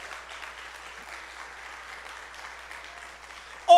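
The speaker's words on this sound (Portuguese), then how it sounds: "Pode aplaudir o Senhor." Church congregation applauding during a Sunday family service, a soft, distant and even patter of clapping held at a low level, ending in a sudden loud burst at the very end.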